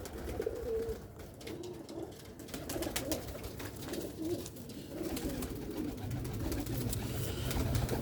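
Rooftop pigeons sitting in the sun coo in low, soft, repeated throaty phrases, fairly close, over a light background hiss.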